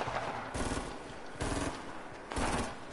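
Rapid automatic gunfire in Fortnite Battle Royale, three loud sustained bursts about a second apart, each a dense rattle of shots with brief gaps between them.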